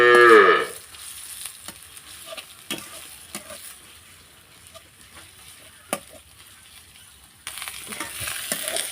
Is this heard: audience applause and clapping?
no